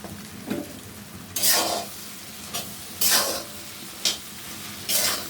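Taro stolons being stirred with raw mango in a pan, cooked without oil: soft background sizzle broken by five or six bright scraping strokes of a spatula, close and fairly loud.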